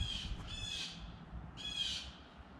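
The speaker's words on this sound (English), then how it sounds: "There's a few more birds showing up now." Crow-like squawking bird calls ring out in the early morning, two drawn-out harsh caws separated by a pause, moderately near over a low outdoor rumble.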